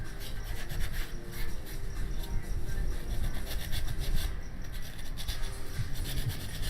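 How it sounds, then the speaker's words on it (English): Steady wet sanding of a painted piece with Gloss-off, a continuous rasping rub of even loudness running nearly seven seconds, close up with no pauses and no talk. "I'm double sanding this thing down"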